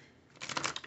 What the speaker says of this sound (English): I just want to shuffle thoroughly.